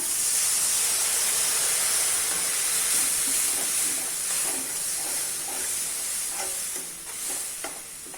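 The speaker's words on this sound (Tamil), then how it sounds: "இப்போ இந்த புளி தண்ணி ஊற்றிக்கலாம்." Tamarind water hisses and steams loudly as it hits a hot pan of spices, settling into a softer bubbling sizzle with light stirring toward the end.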